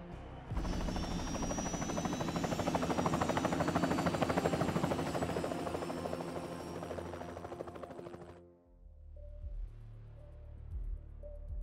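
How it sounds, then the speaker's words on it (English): A helicopter in the stealth game Hitman 2 roars with loud rotor chopping and engine whine for about eight seconds, then cuts off abruptly, leaving faint low thumps and quiet background. "we're just gonna take the helicopter out of here"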